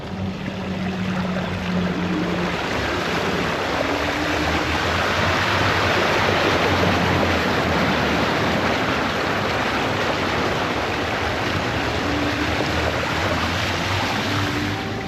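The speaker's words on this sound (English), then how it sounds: "that's the deepest this bike's ever been in water" An e-bike pushes through deep floodwater on a washed-out creek trail, water up to the crank, making a constant loud rushing, churning wash of splashing water with no break.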